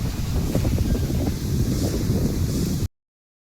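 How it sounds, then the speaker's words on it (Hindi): Strong wind gusting across a rooftop, a loud continuous roar of buffeting against the microphone that cuts off abruptly near the end. "बहुत जोर की आंधी आ रही है"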